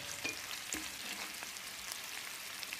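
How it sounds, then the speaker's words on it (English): Food sizzles faintly in a pan while a utensil gives a few quick scraping stirs, soft clacks standing out over the low frying hiss. "Quick stir."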